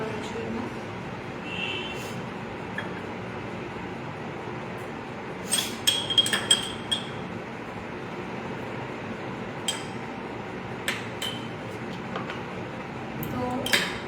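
A spoon stirs curd (yogurt) in a bowl for paan chaat, giving sporadic light clinks and scrapes against the rim, with a brief cluster of sharper clinks midway over a quiet room background.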